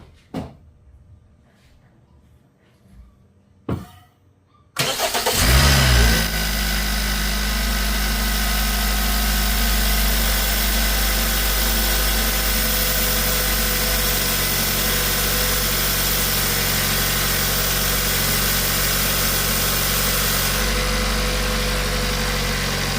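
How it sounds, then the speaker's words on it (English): After a few quiet clicks, a car engine cranks and catches, then settles into a loud, steady idle that runs on with no talk. "So let's go ahead and start this car."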